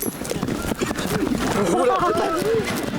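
Sturdy Mongolian horses whinny and snort while hooves clip-clop nearby, and voices talk at the same time.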